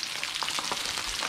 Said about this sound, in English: that's frying away